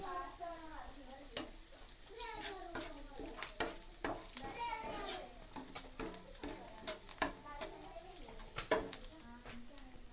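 Curry leaves sizzling and crackling in a hot pan with garlic and onion while being stirred, a steady close frying hiss under scraping, with birds calling and voices talking in the background.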